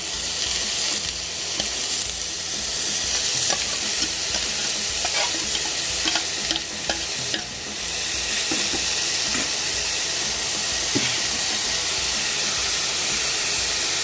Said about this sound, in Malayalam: ഇപ്പം നമുക്ക് അതിനകത്തേക്ക് കൂണ് ഇടാം കേട്ടോ നമ്മൾ കൂണിടുവാണ്